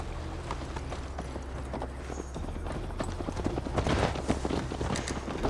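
Galloping horse hooves in Assassin's Creed Valhalla during a long ride to Tamworth, a fast, steady drumming of hoofbeats over a constant low rumble, close and continuous throughout.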